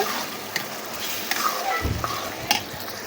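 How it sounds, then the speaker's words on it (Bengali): Chickpea lentils frying in hot animal fat with continuous sizzling and crackling, punctuated by a few scrapes and taps of a spatula against the pan. "বুটের ডালগুলো আমি এখন চর্বির সাথে কষিয়ে নেব"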